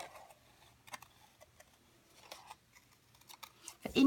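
Scissors snip around the border of a paper piece, giving irregular crisp cuts and clicks at close range, quiet between strokes, with no talk.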